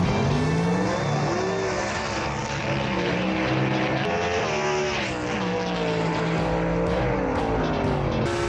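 Gasser drag racing cars, a Mustang and a 1933 Willys panel van, idling and revving loudly in the staging lanes, a continuous rough engine roar with shifting tones and sharp clicks near the end.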